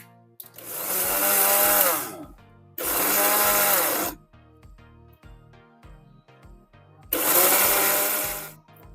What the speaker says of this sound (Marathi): एकदा थोडं 15 सेकंद आपण थोडं मिक्सरला फिरून घेऊ